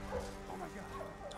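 A dog in Marvel's Avengers whimpers and yips briefly over a game soundscape, with a voice audible alongside.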